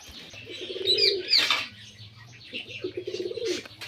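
Pigeons coo softly and repeatedly at close range, mixed with light chirps and a brief wing flutter.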